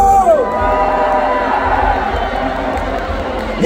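A large crowd at an outdoor anti-impeachment political rally in Gwangju roars and shouts continuously, loud and sustained, with a voice audible briefly at the start.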